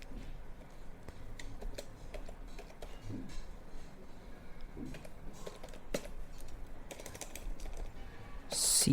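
Quiet, irregular key clicks from a computer keyboard as a network reset command is entered on a Windows 11 PC, soft taps spread across the clip with no voice.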